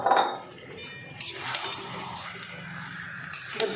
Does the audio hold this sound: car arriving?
no